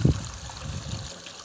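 Water pours into a pesticide sprayer tank on a farm, a soft close trickle and splash that starts with a brief louder gush and then settles into a steady, faint flow.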